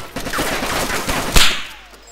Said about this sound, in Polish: Strzelają.